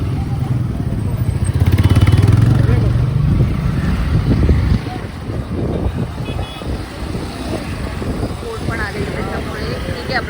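A boat engine rumbles as the boat arrives at Gorai Beach, loud and droning in the first half before fading, with people talking over the beach ambience throughout.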